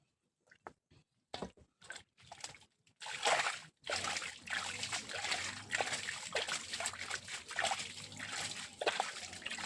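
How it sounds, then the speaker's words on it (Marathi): Water sloshes and splashes in short bursts, then runs as a steady trickle while it is drained out during crab catching in coastal Konkan, Ratnagiri. The sound is close and fairly loud. "त्याच्यामध्ये पहिल्या पाणी गळूया आपण"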